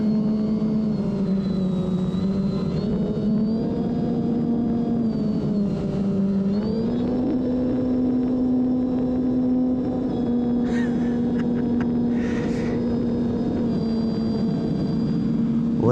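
A radio-controlled propeller plane's engine drones steadily, its pitch shifting as it flies overhead, loud and continuous throughout.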